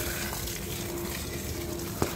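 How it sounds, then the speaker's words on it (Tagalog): Kakawate fertilizer liquid poured from a container onto the base of a plant's stem: a steady, soft splashing wash throughout, ending with a brief knock. "Sa stem mo ibubuhos lahat yung tubig."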